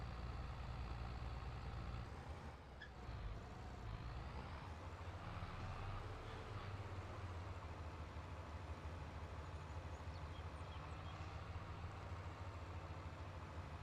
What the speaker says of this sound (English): listen to this loud tractor,